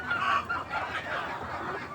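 Chickens cluck softly while pecking at jackfruit scraps. A few short, faint calls come close together over a quiet background.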